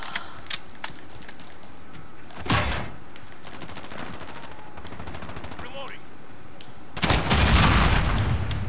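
Burst-fire rifle shots in the Modern Warfare beta, rapid clustered cracks with a heavy boom near the middle and a loud, dense barrage of gunfire at the end, over steady game ambience.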